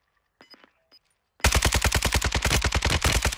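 An RPK light machine gun in a video game opens up after a couple of faint clicks, firing a loud, steady, rapid burst of evenly spaced shots that runs continuously to the end.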